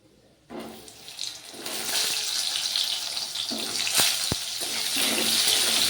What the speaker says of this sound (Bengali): এখন দেখো আমি খাবার জলের বালতিগুলো নিয়ে নিচ্ছি